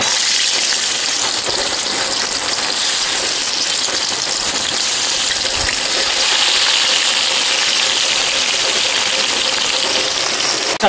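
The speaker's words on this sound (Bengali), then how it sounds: "মাছগুলো ভেজে নেব।" Loud, steady sizzling of katla fish frying in hot oil in a kadai, a dense crackling hiss that continues without pause, close up.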